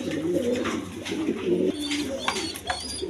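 A pair of pigeons coo in soft, rolling low phrases, close and clear, with a few higher chirps and brief noises toward the end.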